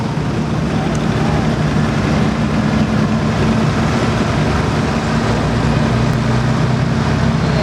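A 1953 International truck rolls past with its engine running, a steady loud rumble mixed with broadband road and wind noise that holds constant throughout.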